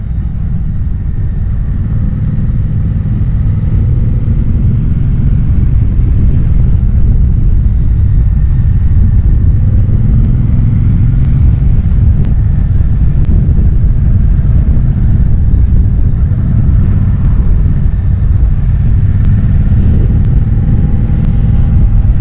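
A 2022 Triumph Bonneville Bobber being ridden in British weather, giving a steady low engine rumble blended with constant wind buffeting, with no voices.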